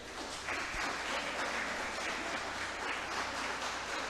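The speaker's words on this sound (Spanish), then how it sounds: "Vamos a aplaudirle al Señor" Sustained applause from a church congregation, a dense steady wash of many hands clapping at once, fairly loud and continuous with no voices over it.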